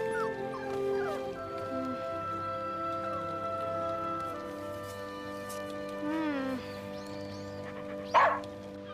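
A dog yips, whimpers and gives short barks amid tonal music and background sounds, ending with a sharp loud yelp, in a dubbed animated film set in feudal Japan.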